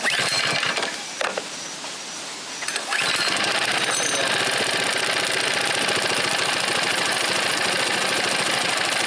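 A Predator small engine that was locked up and has just been freed fires and keeps running steadily. Its loud, close, rapid chugging idle holds for several seconds after some quieter fumbling at the start, with no talking.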